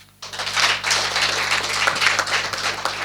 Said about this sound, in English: Well, a better clap.